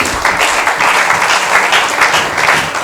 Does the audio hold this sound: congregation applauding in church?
yes